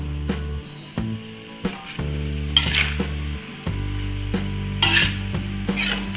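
Javanese bakmi noodles stirred and frying in a hot pan with a little hot water, steady sizzle broken by repeated scraping and clanking of the utensil against the pan, close and fairly loud, no talking.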